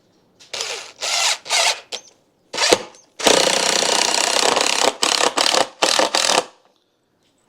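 Power drill driving 3-inch screws into a 4x4 timber while securing a raised tomato bed stand, heard as a series of close, loud whirring bursts of varying length, with a longer sustained run in the middle and short pauses between.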